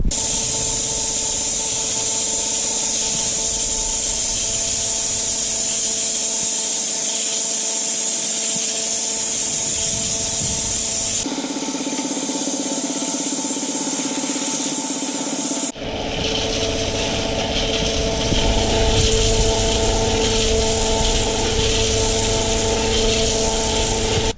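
A seed mixer runs with a steady motor hum while an air compressor blasts a loud, continuous airy hiss blowing off husks, the noise shifting in pitch and intensity partway through.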